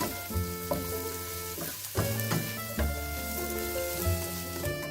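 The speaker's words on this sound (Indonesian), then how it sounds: "Nah ini ditumis sampai harum" Onion and scallion sauté in a wok for mie goreng, a steady frying sizzle with occasional stirring knocks under a backdrop of sustained musical tones.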